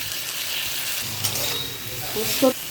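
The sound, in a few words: poppy seeds frying with onion and pointed gourd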